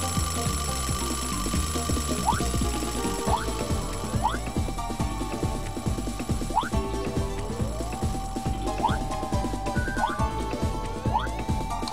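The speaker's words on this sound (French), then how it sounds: "Ah, je me rapproche du réveil" In the video game Nights into Dreams, an alarm clock rings with a regular, repeating pattern of short chirping tones over layered game music, steady and fairly prominent throughout.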